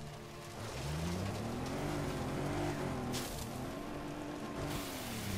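Car engine from the video game Just Cause 3, a steady droning motor whose pitch rises and falls in slow waves as the vehicle accelerates and shifts, with a brief wash of noise partway through.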